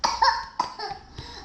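A person coughs several times in quick succession, harsh rough bursts close to the listener, with no talking.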